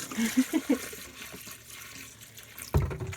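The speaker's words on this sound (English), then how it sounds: "Pour some down the toilet." Liquid poured into a camper toilet during winterizing, splashing and trickling faintly in short bursts before a louder gush of water near the end.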